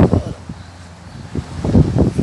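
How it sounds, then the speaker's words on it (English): Gusty wind in South Africa buffets the microphone in low rumbling bursts, rising and falling, loudest toward the end. "it's so windy"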